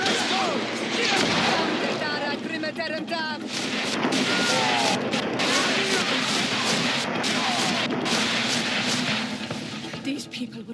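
Rapid, dense gunfire from the video game GreedFall fills the scene in continuous loud bursts, layered over voices and battle noise throughout.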